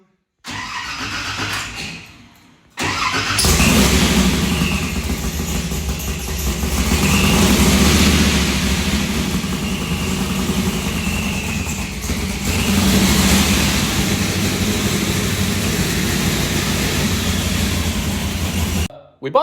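A street car's engine runs loud and close, a deep steady roar with surging revs that carries on for most of the stretch after a brief quiet gap near the start.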